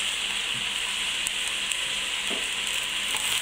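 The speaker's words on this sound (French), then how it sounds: "il faut laisser colorer en remuant fréquemment, de façon à ce que les oignons ne brûlent pas" Chopped onions for onion soup sizzle steadily in a hot pan, with a constant close frying hiss and occasional soft scrapes and clicks as they are stirred.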